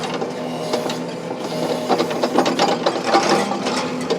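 A trenching machine churns continuously through clumpy red clay soil, giving a loud, steady mechanical grinding and rattling with a rhythmic clatter throughout.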